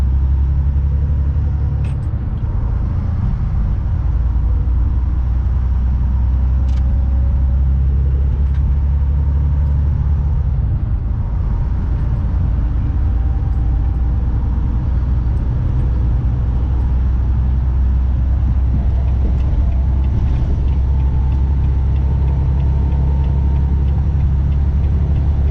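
Steady low road rumble from a truck cruising at about 60 on a highway between Holland, Michigan and Walcott, Iowa, a constant close drone with no talking.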